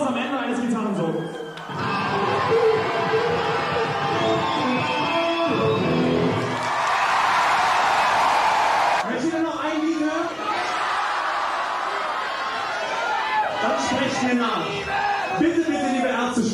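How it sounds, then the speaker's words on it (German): A rock concert crowd breaks into spontaneous applause and cheering as a guitar solo ends, a broad roaring wash of clapping and shouts that swells in the middle while voices speak over it. "Spontaner Applaus am Ende eines Gitarrensolos."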